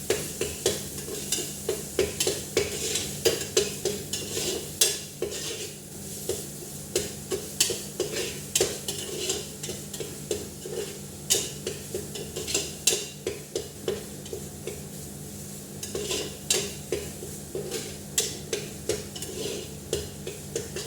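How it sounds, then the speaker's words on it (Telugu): Ginger garlic paste sizzles in a frying pan while a spoon scrapes and stirs in quick, repeated strokes over a steady frying hiss, close and clear, with no voices. "అల్లం ఎల్లుల్లిపాయ పేస్ట్ వేగింది కదండి."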